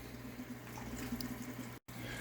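Distillate trickles from the condenser of a peach moonshine still into a collection vessel, a soft continuous liquid flow with a steady low hum beneath it and a brief dropout near the end.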